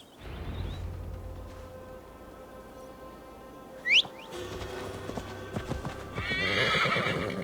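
A horse in Assassin's Creed Valhalla trots with clip-clopping hooves through a forest in Gloucestershire, close and steady, then gives a sharp whinny, followed by more hoof steps and rustling.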